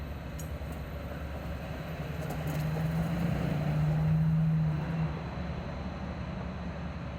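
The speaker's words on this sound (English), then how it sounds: "a coaster train pulled into the station" A Coaster commuter train led by a Charger locomotive rolls into a station in northern San Diego County, a steady rumble with a sustained horn-like tone swelling in the middle and fading out.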